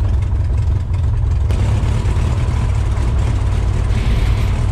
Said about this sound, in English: You can see it starts up a lot easier this time.